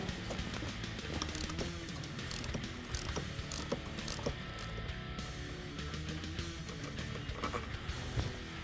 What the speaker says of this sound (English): Next, we're going to remove 3 bolts up here. You're going to remove the 3 going through this rubber donut, also called a guibo.